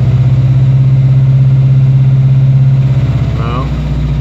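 A car engine idles loud and close with a deep, steady pulsing throb. The note dips slightly near the end of the few seconds.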